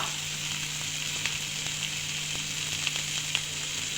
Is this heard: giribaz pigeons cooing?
no